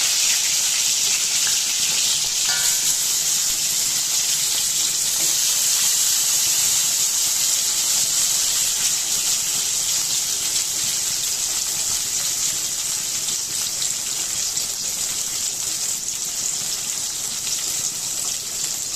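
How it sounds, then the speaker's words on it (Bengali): Garlic, tomato, onion, green chilli and cashews fry together in hot oil, giving a continuous close hiss and sizzle at even loudness throughout, with no talking. "এখন আমি এগুলোকে ফ্রাই করব।"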